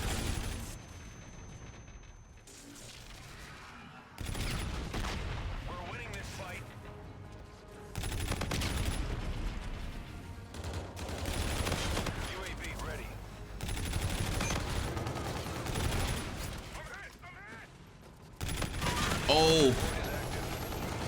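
Bursts of rapid KBAR automatic gunfire in Call of Duty Infinite Warfare, repeated volleys with brief pauses, explosions and game effects mixed in, and a short exclamation from a player.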